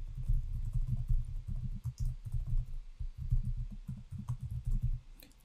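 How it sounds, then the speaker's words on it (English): Login details being typed on a computer keyboard, a close, steady stream of soft low clacking keystrokes with short pauses, no voice. "So let me just type that in right now."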